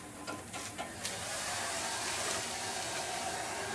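Steady broadband whoosh of a hair dryer blowing hot air continuously onto an engine thermostat, close and fairly loud, after a few brief clicks and bumps at the start.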